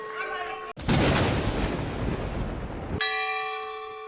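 A ringside bell clangs to end a round in a professional boxing match, a loud bright strike at the close after a long stretch of crowd roar and commentary, its tone ringing on.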